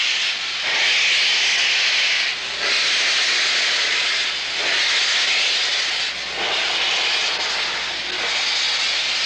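Norfolk & Western 611 steam locomotive vents steam in loud, roaring hissing blasts, four long surges separated by brief dips, close and continuous, with no talk.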